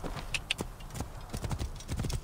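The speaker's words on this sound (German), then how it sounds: "Pferd." Horse hooves clip-clop in the video game Assassin's Creed Origins, a steady rhythm of hoofbeats close by, moderately loud over faint background ambience.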